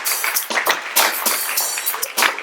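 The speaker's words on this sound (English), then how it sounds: "Give yourselves a round of applause for that." A small group claps after a music and trumpet session. The claps come as separate, uneven bursts, close and fairly loud, with brief gaps between them rather than a continuous roar.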